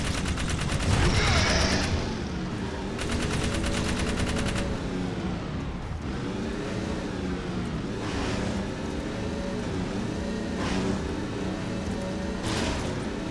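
Sustained rapid gunfire from Jak 3 as bugs are shot down, bursts of fast automatic shots layered over a steady game soundscape, continuous and moderately loud throughout.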